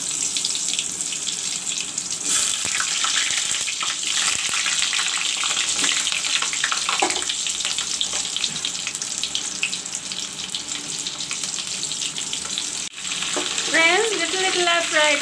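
Stuffed parval fries in hot mustard oil with a loud, continuous hiss and crackle that holds steady throughout, and brief clinks of a utensil.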